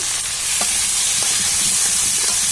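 Spiced tomato masala sizzling loudly in a pan, a dense continuous hiss with a few faint stirring scrapes and no voices, as water goes in.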